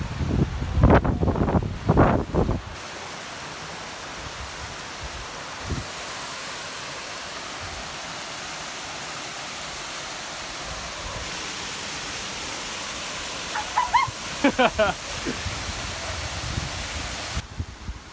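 A waterfall pours straight into the ocean beside Eagle's Head Rock on Australia's east coast, heard as a constant broadband rush of falling water. A few brief knocks and handling noises come close to the microphone at the start and near the end.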